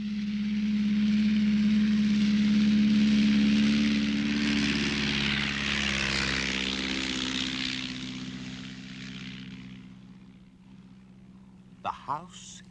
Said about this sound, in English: The aeroplane is a machine for flying.